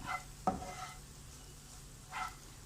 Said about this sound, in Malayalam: ഇതൊന്ന് ചെറുതായിട്ട് ഈ പൊടികളൊക്കെ ഒന്ന് ഫ്രൈ ആവട്ടെ. ചെറുതായി ഒന്ന് മൂത്ത് കിട്ടണം.